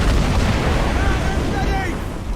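Ship cannons firing in Assassin's Creed Rogue, a dense, loud rumble of blasts and booms at sea, with shouted crew voices over the barrage.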